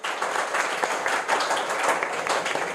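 A classroom audience gives a steady, busy round of applause for a student who topped the district in an exam result, with continuous close clapping throughout.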